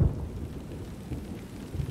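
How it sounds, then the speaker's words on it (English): Thunder rumbles low and heavy in a Xenosaga Episode 2 game scene, with a deep roll at the start and another at the end over a steady wash of rain. "It's raining."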